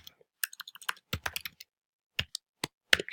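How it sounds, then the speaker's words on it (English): Irregular keystrokes on a computer keyboard, close and crisp, clustered bursts of clicks separated by brief pauses. "Excuse my terrible typing."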